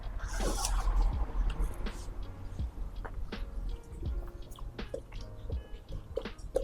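Several people chew crunchy food while tasting sparkling wine, with quiet crisp bites and mouth sounds recorded close against a low background.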